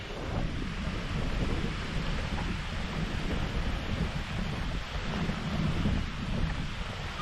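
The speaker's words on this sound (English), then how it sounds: "Ah, a bit of a wind." Steady wind gusts across the microphone at Cruggleton Bay, a seaside bay, a loud continuous rumbling buffet with no voices.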